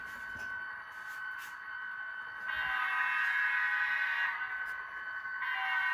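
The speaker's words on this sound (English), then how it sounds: "run a caboose train" A model caboose train runs on its track, a quiet, thin mechanical whir with a steady high tone that swells louder halfway through, heard alone without speech.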